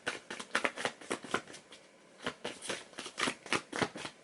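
A deck of tarot cards shuffled by hand in a series of quick, crisp riffling bursts with short pauses between them, close and fairly quiet, with no talking.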